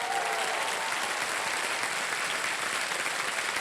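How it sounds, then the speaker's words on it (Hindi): A studio audience at the Kaun Banega Crorepati quiz show gives a dense, continuous round of applause for a contestant's parents, loud and even throughout. "एक बार फिर तालियां बज जाए इनके लिए"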